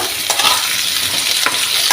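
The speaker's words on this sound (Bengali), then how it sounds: "আলুটাকেও একটু ভাজা ভাজা করব" Potatoes and onion fry in a pan for a homestyle raw jackfruit curry, giving a loud, continuous sizzle with a few sharp stirring scrapes and no talking.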